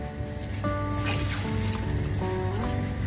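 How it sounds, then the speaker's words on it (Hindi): Water poured into a pan holding raw chicken feet in a home kitchen: a steady, close trickling and splashing stream that runs throughout, with shifting tonal ringing as the pan fills and no talking. "सबसे पहले मैं इसे पैन में पानी डाल रही हूँ और ये पंजे मैं इसके अंदर डाल दूँगी पानी के अंदर।"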